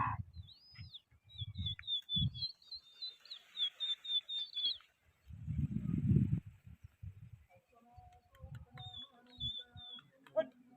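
Racing pigeons in a flying competition are heard in short chirping, tweeting calls in a rapid run and again later, moderately close, mixed with handling noises and bursts of low rumble.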